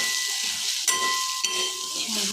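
Sev tamatar sabji seasoned with red chilli powder and a green chilli, ginger and garlic paste sizzles in a pan, a steady hiss broken by two sharp scrapes of the spoon as it is stirred.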